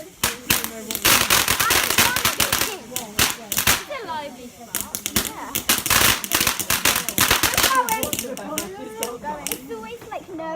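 Bonfire night fireworks bang and crackle in rapid, irregular bursts, loud and close, with sharp cracks overlapping one another while people talk between the blasts.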